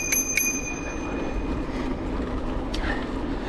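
A mountain bike's bell rings twice in quick bright dings at the start, with a fainter ding later, over steady outdoor rumble beside a canal.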